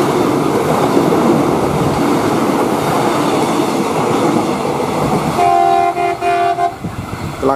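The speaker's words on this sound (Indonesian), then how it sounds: "Klakson tuh di perlintasan sana." A train rumbles steadily past at a railway crossing on the line toward Soekarno-Hatta airport, loud and close, then its horn blares in several sustained blasts near the end.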